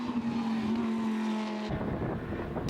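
Race cars, a Lamborghini among them, roar past on the Estoril circuit during a winter series race, with a steady engine note that cuts off abruptly into a rougher, fading mechanical rush.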